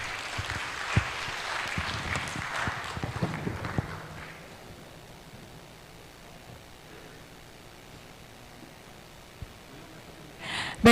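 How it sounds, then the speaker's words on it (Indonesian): Audience applause at an Indonesian socialization event on warehouse receipt systems, a dense clapping wash filling the first four seconds before fading into quiet room noise. "Aplaus buat Pak Didit"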